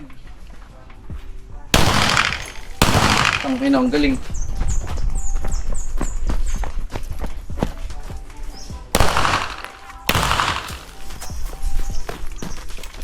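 Handgun gunfire at a shooting range, with sharp loud shots spread across the stretch, including pairs of close, heavy reports and lighter cracks between them, while people talk and move nearby.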